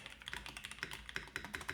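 Keys clacking on an Odin Aurora65 keyboard, a steady run of close, crisp taps with slightly hollow, airy space bar strokes, heard alone.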